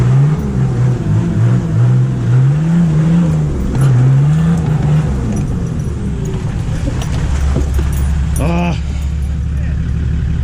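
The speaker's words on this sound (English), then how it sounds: "Let's grab second gear." Nissan GQ Patrol with a TD42 diesel engine driven off-road at night, the engine dropping off and climbing again through a gear change into second, its low drone steady and close with rattles and a brief whine.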